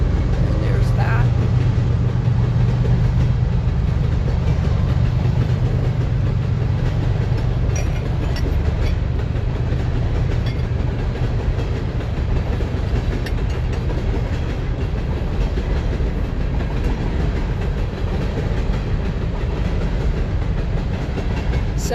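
A train rumbles past nearby with a steady low roar of wheels and rail clatter, gradually easing off over a long stretch.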